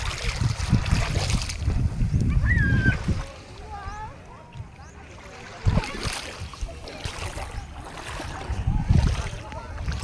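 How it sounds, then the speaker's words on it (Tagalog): Water splashes and gentle surf at a Philippine beach on Nonok, Romblon, with people wading in the sea; voices talk over choppy splashing and wind, with a louder splash burst midway. "Sarap magtampisaw dito sa dagat."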